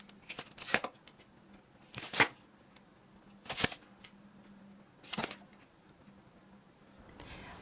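Tarot cards are shuffled and drawn in several short, crisp bursts of riffling and slapping, each about a second long and separated by quiet pauses, close and fairly soft.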